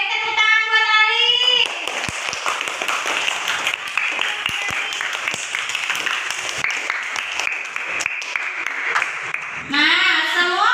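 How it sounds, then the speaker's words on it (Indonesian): Classroom students clapping together: a sustained burst of lively group applause, loud and close, framed by a teacher's voice speaking briefly before and after. "tepuk tangan buat Ali"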